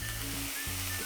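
A thick-cut maitake mushroom steak sears in a hot pan with a constant close sizzle and a faint hum beneath, over a very brief stretch.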